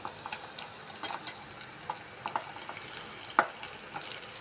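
Boiled beef tripe pieces dropped into fried ginger-garlic paste in a pan, giving a steady low sizzle with intermittent stirring clicks and scrapes and one sharper clatter near the end, with no voices.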